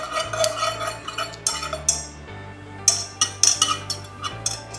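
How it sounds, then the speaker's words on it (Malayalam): Hot chocolate is whisked in a pot on a stove, a whisk clinking and scraping in quick irregular metallic taps over a low steady hum from nearby equipment. "ഇങ്ങനെയാണോ വിസ്ക് ചെയ്യുന്നത്?"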